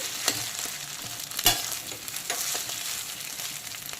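Fish roe fries with raw mango in oil, a soft steady sizzle broken by a few sharp scraping stirs of a spatula against the pan.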